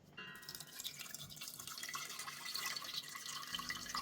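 Hot water being strained off pickling tomatoes, a close, continuous pouring and dripping trickle of liquid with light splashes throughout, no voices.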